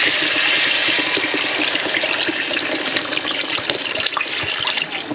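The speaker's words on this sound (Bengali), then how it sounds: "আমি এবার কিন্তু মাছের কালিয়াটা যে করব জলটা দিয়ে দেবো।" Water poured into a pan of well-fried spice paste for a Bengali fish kalia curry with potatoes, giving a steady, loud hissing and rushing wash that runs continuously without talk.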